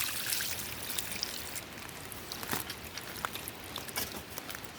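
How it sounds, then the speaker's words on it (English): Water pours and trickles out of a sack of wet, gold-bearing material outdoors, a faint, steady dribble with scattered drips. "See about pouring some of the water out of here."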